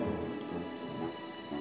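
Cartoon rain pours steadily in an even, dense hiss with a low rumble of thunderstorm underneath, heard alone without voices.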